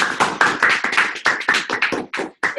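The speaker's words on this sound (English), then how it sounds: "We're going to take this time to give them a round of applause" Applause from a small club audience for two speech contest speakers at a Rotary four-way test event, heard as irregular bursts of hand claps and taps close by, with brief gaps toward the end.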